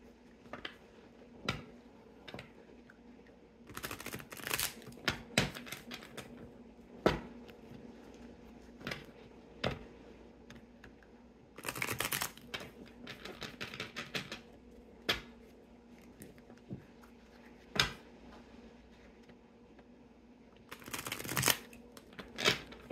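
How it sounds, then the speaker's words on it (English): Tarot cards being shuffled, heard close and quiet as repeated crisp riffling bursts and scattered single card taps and snaps. "We'll shuffle these up."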